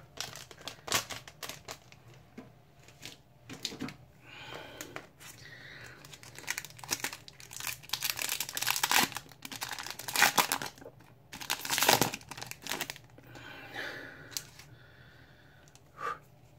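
Pokémon and Yu-Gi-Oh booster pack wrappers crinkle and tear close by, with irregular bursts of foil rustling and ripping, some louder tugs, and quieter handling between them.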